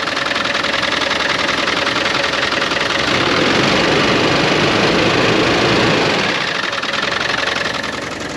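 Land Rover 300 Tdi diesel engine running steadily after an alternator swap, a loud, close, continuous clattering rumble with no break, slightly rising in intensity midway.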